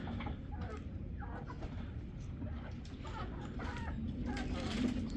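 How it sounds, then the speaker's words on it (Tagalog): Several hens cluck softly in a backyard breeding pen fitted with a nesting box, a low steady murmur of fowl under ongoing talk, with a slightly louder burst near the end. "So ngayon merong 5 manok dito"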